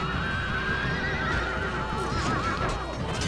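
Horses whinny amid the din of a video game battle with cavalry, horse archers, spearmen and cataphracts; wavering neighs ride over dense, continuous clamor and hoofbeats.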